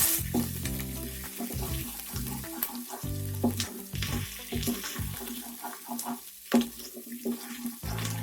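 Ginger fries in oil in a pan as the base for kadhi, giving a close, steady sizzle broken by spoon stirs and scrapes, with a brief splash of running water in the background.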